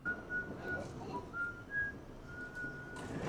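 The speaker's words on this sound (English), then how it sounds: "hears someone whistling" Someone whistles a slow, wavering tune of separate notes, fairly soft, over a low rumbling background.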